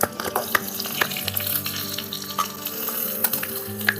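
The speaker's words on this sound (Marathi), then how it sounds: "बघू शकता की कसा आवाज येतोय. मिरची टाकली. आपण जरा हलवून घेऊया." Green chilies sizzle and fry in a hot pan for dal bhat chokha, with steady crackling broken by a few sharp spatula scrapes and clinks as they are stirred, close and alone.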